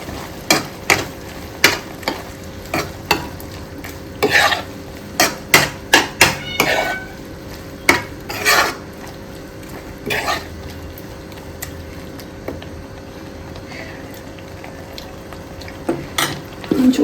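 Squid sukka masala sizzles in a pan while a spoon scrapes and knocks against the metal in irregular bursts. A soft, steady frying hiss runs underneath, with quiet stretches in between.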